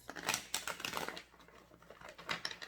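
A deck of tarot cards is shuffled by hand nearby, making quiet, irregular bursts of papery flicks and riffles that come in uneven clusters.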